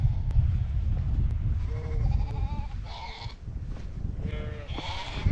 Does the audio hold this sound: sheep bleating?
yes